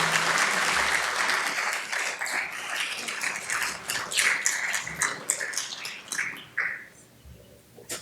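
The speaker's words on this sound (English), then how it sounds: "how about one more round of applause for James Fallows, honorary Erie citizen" Summit audience giving another round of applause for a guest, dense crowd clapping with sharp individual claps standing out, thinning and fading toward the end.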